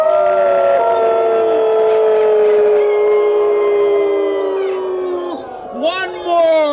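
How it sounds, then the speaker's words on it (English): A crowd at an outdoor rally howls together in one long, sustained, wavering chorus that gradually sags and fades, then breaks into a few short rising whoops at the end. "as soon as we get this howl going"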